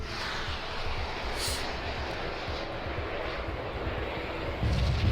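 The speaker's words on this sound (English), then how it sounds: "her engines roared to life, lurching the ship forward" Spaceship engines of the Sunrider in a sci-fi video game roar to life, a broad, loud, steady rumbling roar with deep low-end throb that swells slightly near the end, heard alone without talk.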